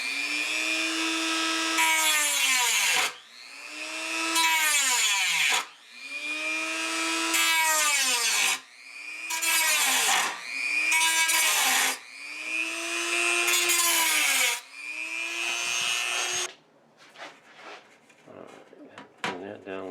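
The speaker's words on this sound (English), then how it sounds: "let me get this notched, and let me get these two holes marked and drilled" Power tool work on wood for notching and drilling holes: about six loud, close whirring bursts that each rise and fall in pitch, with short pauses between them, then a stretch of lighter clattering handling noise.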